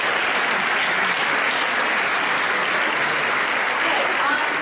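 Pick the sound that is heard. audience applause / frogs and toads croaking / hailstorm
audience applause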